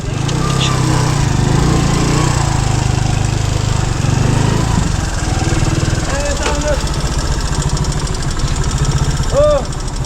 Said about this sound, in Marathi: बाईक